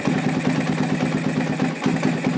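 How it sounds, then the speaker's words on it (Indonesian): A motorcycle engine idles at about 1500 to 1800 rpm, giving a steady, close, rapid low thrumming with no speech. "Jadi putaran lamsam atau putaran stasioner itu motor bermain di angka 1500 sampai 1800 ya"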